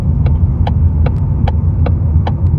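A car driving along, a loud steady low rumble and road hum with a faint regular ticking over the top, close and continuous with no talking.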